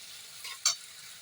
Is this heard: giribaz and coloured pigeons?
no